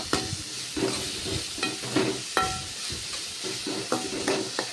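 Vegetables for veg fried rice are sautéed in a pan, with a soft sizzle beneath a steady rhythm of spatula scrapes and taps as they're stirred, close and continuous with no talking.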